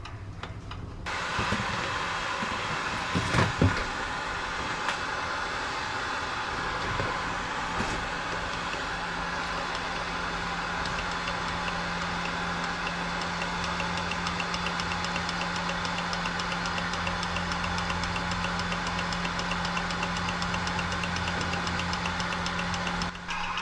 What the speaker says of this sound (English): The motor was happy to sit and run as long as it had a heat source under it.